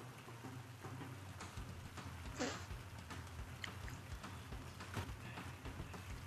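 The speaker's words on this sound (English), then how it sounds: "Why is it raining so much?" Rain falls steadily in a soft, continuous patter on surfaces, quiet and even throughout with a few slightly sharper drops standing out.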